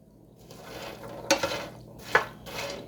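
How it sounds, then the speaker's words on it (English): A spoon stirs and scrapes freshly buttered popcorn in a metal pot, giving a soft rustle with two sharper clinks of metal against the pan, close and alone. "If you have a spoon like this, make sure to mix around the popcorn."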